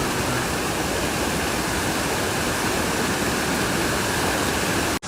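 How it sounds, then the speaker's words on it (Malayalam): Karinkappara waterfall roars in a steady, close, broadband rush of falling water, loud and unbroken until it cuts off abruptly at the end. "കരിങ്കപ്പാറ വെള്ളച്ചാട്ടത്തിൻ്റെ അവസ്ഥയാണിത്"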